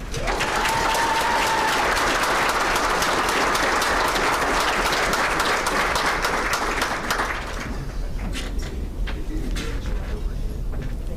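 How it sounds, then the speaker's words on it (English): Audience at an awards banquet applauds loudly and steadily, a dense wash of many clapping hands that stays full for about seven seconds before thinning and tapering off toward the end. "Please give a round of applause for Nina Evans."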